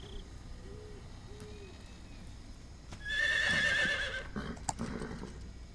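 Horse whinny from Metal Gear Solid 3, a few short, faint tonal calls early on, then a loud burst of game sound effects with a bright rising squeal in the second half.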